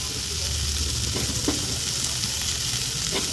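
Carrots, beans, cauliflower and other pre-steamed vegetables sizzle and crackle steadily in a pan for biryani, with a few faint stirring clicks and no talking.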